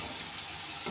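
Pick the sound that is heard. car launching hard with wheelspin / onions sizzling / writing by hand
onions sizzling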